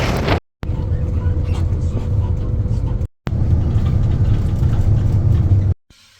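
An overloaded motorbike crossing the border into Cambodia, its engine running with a steady loud drone and wind rush, broken by two brief dropouts.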